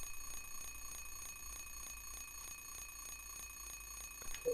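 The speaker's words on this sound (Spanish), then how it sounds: "Ojito que suena el despertador." An alarm clock rings in the survival horror video game Silent Hill 3, a steady, fast repeating electronic beeping pattern at a constant level that carries through the whole stretch, with no talk over it.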